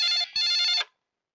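An old-style telephone bell rings loudly in a Bollywood Hindi action film scene, one short electric trill with a brief break, then cutting off into silence.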